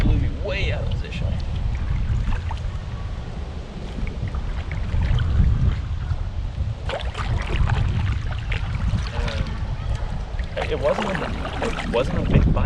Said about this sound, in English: Man, big gust.